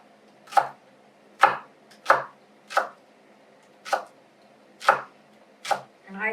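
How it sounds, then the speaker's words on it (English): A knife slicing vegetables thinly on a cutting board, seven crisp, evenly spaced chops about one per second, close and clear in a quiet kitchen with no talking. "So let's put them like that and just do thin little slices."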